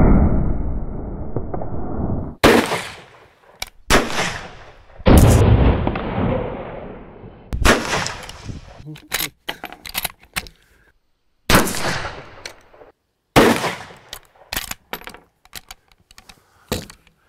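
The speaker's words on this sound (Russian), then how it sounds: "Стрельба." A series of sharp, loud gunshots from a Savage Model 99 rifle, a dozen or so single cracks fired at irregular intervals with short echoing tails and brief quiet gaps between them.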